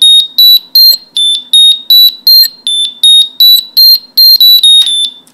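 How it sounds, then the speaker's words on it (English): A Metroboard Mini RC remote emits a rapid run of sharp, loud electronic beeps in quick succession, close up with no talk. "That's 4 downward beeps. That's for the 40-mile battery."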